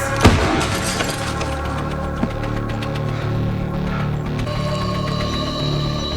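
A sharp crash of stained glass shattering in a Walking Dead TV episode, heard at the start, followed by tinkling debris and a continuous loud, dense soundtrack rumble.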